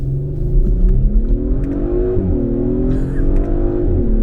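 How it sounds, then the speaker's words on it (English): An Audi SQ5's engine revs hard and steadily under acceleration in first gear, with a rough, crackling exhaust note and a gear change partway through. "A nice crackle from the exhaust there."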